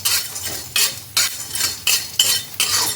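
Edible gum (gond) roasting in a pan, stirred with a spoon: repeated bright scraping, rattling strokes roughly every half second, close and crisp, with no voices.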